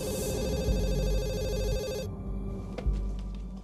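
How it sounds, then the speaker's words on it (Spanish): A telephone bell rings loudly and steadily in a dubbed Spanish true-crime drama, its repeated ringing continuing alone for a few seconds before a brief knock-like thump. "El teléfono empezó a sonar y contesté"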